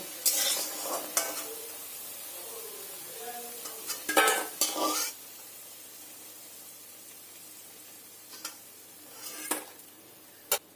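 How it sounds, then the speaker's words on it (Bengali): Lentil and egg fritters deep-fry in a pan, with a quiet bubbling sizzle beneath intermittent clatter and scraping as a utensil moves and turns them; no talking. "এইভাবে সব বড়াগুলোকে ভেজে নেব।"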